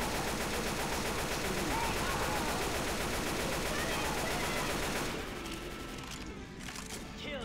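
Rapid automatic gunfire in the video game Left 4 Dead 2 rattles nonstop at close range, then thins out into quieter scattered shots and noise near the end.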